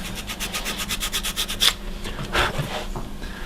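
A sahurik abrasive tool rubs across wood on a micro milling machine setup, giving a steady run of close, rhythmic rasping strokes followed by a few slower, heavier scrapes.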